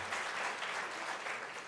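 Brief, soft applause from an audience at a U.S.-Africa Leaders Summit business forum, heard as an even wash of clapping somewhat distant in a large hall.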